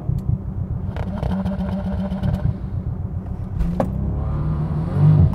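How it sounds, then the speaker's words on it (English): A 2019 Bentley Continental GT launches hard from a standstill, its engine note rising and surging through quick gear changes, loud and close, with a mechanical clatter and a heavier roar near the end. "I'm going to launch this Bentley."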